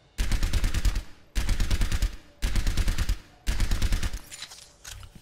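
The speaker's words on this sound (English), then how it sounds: "Can I have 5 or 6 shot bursts now?" Four rapid bursts of automatic gunfire from the Soldier hero in Overwatch, each a loud, evenly spaced rattle of shots lasting about a second, separated by short pauses.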